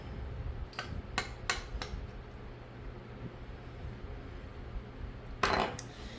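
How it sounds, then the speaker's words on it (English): A knife cutting through Mexican meatloaf in a metal pan, heard as a few sharp clinks and scrapes against the pan, then a brighter clatter near the end, over a low steady background hum. "Cut it with that knife here."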